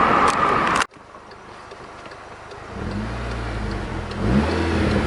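A VW MK6 with its muffler deleted, fitted with a full exhaust and downpipe, blasts loudly before cutting off abruptly. The engine then idles and revs up twice in rising, throaty sweeps, close by and with no talking.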